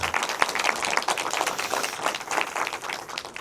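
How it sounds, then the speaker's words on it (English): A conference audience applauds steadily, dense clapping filling the room from start to finish without pause. "Yeah, you've got to clap."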